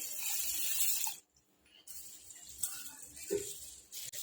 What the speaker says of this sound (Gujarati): બાસમતી ચોખા લઈ લીધા છે બે વાડકી હવે આપણે પહેલાં એને ધોઈ લઈશું સારી રીતે